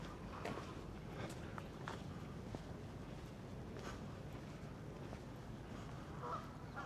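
A flock of Canada geese honks faintly and irregularly on a London morning walk, with scattered calls over steady outdoor background noise and footsteps.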